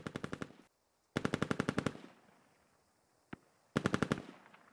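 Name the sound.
gunfire in the video game Squad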